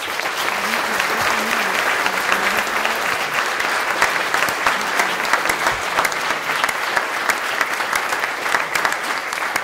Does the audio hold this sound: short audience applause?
yes